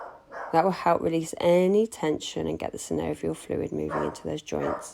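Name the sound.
dog barking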